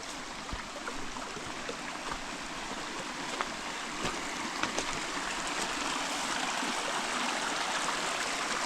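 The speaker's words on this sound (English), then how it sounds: "Just a little trickle." Small trickle of water at a pond outlet, a soft, continuous babble and gurgle close by, steady throughout with faint scattered ticks.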